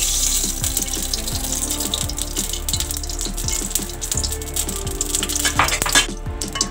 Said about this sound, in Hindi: अब एक कढ़ाई में हम तेल गर्म करेंगे।